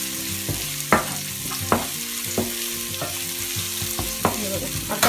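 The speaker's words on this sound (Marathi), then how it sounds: "थोडंसं किंचित मीठ टाकून घ्यायचं, म्हणजे तो आपला कांदा चांगला फ्राय होतो" Onion with a little salt fries on a tawa for a spicy prawn masala, a constant close sizzle broken by sharp spatula scrapes and taps roughly every second, no talking.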